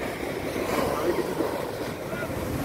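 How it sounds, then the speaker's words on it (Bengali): Sea waves wash steadily at Bakkhali beach, a continuous broadband roar of surf with wind buffeting the microphone, fairly loud and close throughout with no clear voices. "আরে কি সাউন্ড জলের!"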